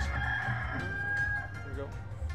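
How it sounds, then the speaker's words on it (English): Rooster crowing from a Dragon Cash slot machine rings out as a drawn-out cock-a-doodle-doo over casino background noise, moderately faint, followed by softer chirpy machine sounds. "I just don't remember those roosters crowing."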